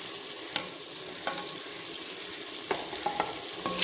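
Spices stirred into softened tomatoes and onions in a hot pan give a steady close sizzle, with a few sharp scraping clicks from the stirring spoon scattered through it.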